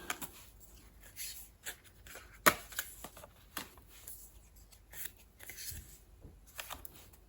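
Glossy paper character cards from a limited edition Blu-ray boxset of A Chinese Odyssey are handled up close, with crisp rustles, flicks and one sharp snap, and no talking.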